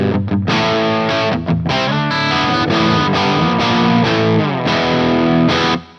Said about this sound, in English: I have just a simple patch set up here with an Overloud amp and the D-reverb pedal.